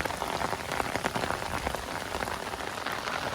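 Steady rain pattering on a riverbank surface, a dense continuous patter of drops close by, with no talking.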